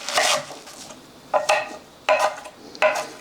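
Knife chopping washed garlic chives into roughly 1 cm pieces on a cutting board, as filling for cucumber kimchi; four sharp clustered bursts of chopping strokes sound close and crisp, with no talk.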